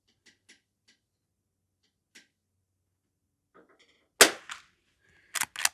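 Sharp gunshots from a Henry H001 lever-action rifle firing bulk ammunition on a shooting range: faint ticks at first, then a loud single crack, a quieter follow-up and a quick close pair of shots near the end.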